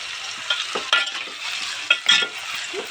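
Chopped tomatoes frying in hot oil for a spiny gourd curry, a close steady sizzle broken by scraping stirs and sharp spitting bursts.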